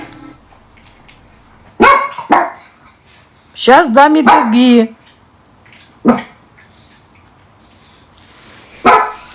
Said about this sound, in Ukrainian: Чого ти гавкаєш?